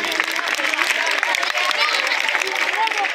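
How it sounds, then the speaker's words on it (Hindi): Dense, steady applause from a crowd at a Republic Day prize distribution ceremony, continuous and fairly loud throughout, with voices mixed in. "जोरदार तालियों से"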